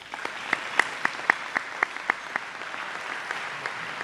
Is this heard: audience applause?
yes